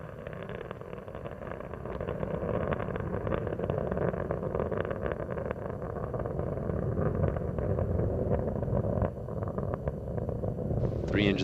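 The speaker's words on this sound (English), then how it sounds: "Three engines on Endeavour are now throttling back to 2/3 throttle to as the spacecraft prepares to go through the area of maximum aerodynamic pressure" Space Shuttle Endeavour climbs after launch, its engines giving a steady, dense, crackling roar that holds constant throughout, with a commentator's voice over it.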